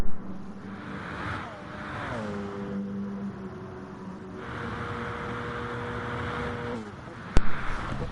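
Race cars in a UAL WEC sim race roar past, engines holding a steady high drone, shifting pitch as they brake and accelerate, with a sharp click near the end.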